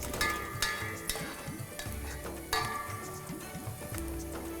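Onions fry in a pan for achari paneer, a steady close sizzle broken by occasional stirring clinks and scrapes of a utensil, with no talking.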